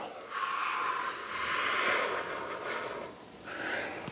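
A person exhales audibly while lifting the chest, head and arms off the floor during a belly angels exercise, giving long, breathy, close rushes of air that swell and fade, with no talking.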